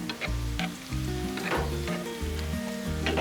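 Sausage gravy made with milk, flour and sausage grease sizzles steadily on a Blackstone griddle while a spatula scrapes and stirs it in quick, repeated strokes, close and clear with no talking.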